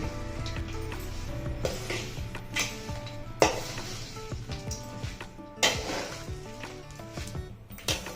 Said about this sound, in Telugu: తాలింపుకి ఒట్టి ఆవాలు వెల్లుల్లి ఎండుమిర్చేనండి